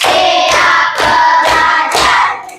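A Year 5 class claps in unison, five crisp, loud group claps in a steady rhythm at close range, with faint voices around them.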